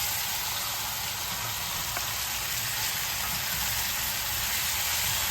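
Steady, dense frying hiss as soy sauce and salt are stirred in a hot pan before noodles go in for fried tsomyan lagman, a continuous close sizzle with no talk.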